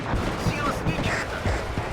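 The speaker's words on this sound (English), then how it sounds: "So the grenade launchers are just cleanly killing these." Rapid muffled thumps and booms of grenade launchers firing in the wartime strategy game WARNO, a dense run of repeated blasts crowding the short stretch, with a voice speaking over part of the gunfire.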